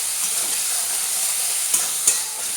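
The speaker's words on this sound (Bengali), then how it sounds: "ভাজতে ভাজতে দিয়ে দেবো এখানে টমেটো, স্বাদ অনুযায়ী নুন দিয়ে দেবো" Tomatoes fry with salt in a pan for a sea crab curry, a dense, loud hiss of frying up close. A couple of sharp stirring clicks sound near the end.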